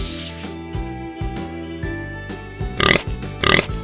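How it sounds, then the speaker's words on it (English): Pig oinks from a farmyard in a children's picture-book reading, two short gruff grunting bursts near the end over soft, steady background music. ""Oink, oink," grunted the pig."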